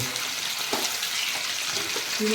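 Raw jackfruit frying in oil in a pan, a close steady sizzle with a few soft stirring knocks, brief and moderately loud, no talking.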